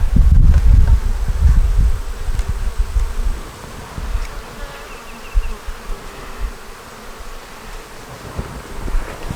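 Honeybees buzz steadily and close by as frames from a deep nuc are moved into an eight-frame deep hive, with a few low handling bumps near the start.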